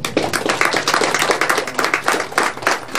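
A crowd at a Beninese political gathering claps loudly and steadily, dense rapid hand claps filling the whole stretch in a close, continuous burst.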